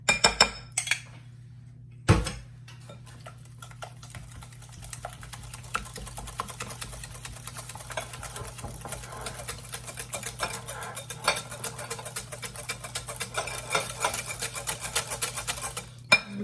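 A whole cup of sour cream being mixed into corn cake batter in a bowl makes a steady run of soft scraping, tapping and light clinks of the utensil against the bowl, close by with a low hum underneath and no talking.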